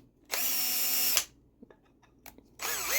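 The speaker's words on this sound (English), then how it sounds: "I do need to tap out these holes for the screws" A power drill whirs in a short burst, stops, then small clicks and taps follow before the drill spins up again, close by.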